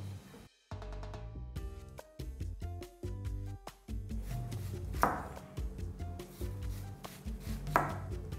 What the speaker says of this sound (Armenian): սոխը կտրատում ենք հաստ օղակների